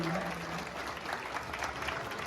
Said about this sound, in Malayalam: കളി ഇഷ്ടപ്പെട്ടെങ്കിൽ ഒരു കയ്യടി കൂടി കൊടുത്താലും അത് അധികമാവില്ല.